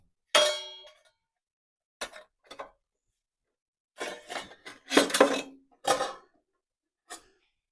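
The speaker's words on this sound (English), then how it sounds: "Move the upper guard into the open position and pop the blade off." Metal clanks and clinks from a circular saw blade and arbor washer being taken off the saw, several separate sharp knocks spaced out over a few seconds, close by with silence between.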